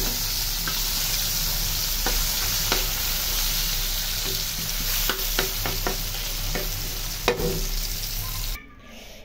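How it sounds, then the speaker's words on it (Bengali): Pumpkin slices fry in oil previously used for fishing, giving a loud, continuous sizzle with scattered sharp pops and crackles that stops abruptly near the end. "মাছ ভাজার তেলে এখন এই যে মিষ্টি কুমড়া গুলো ভেজে নিব"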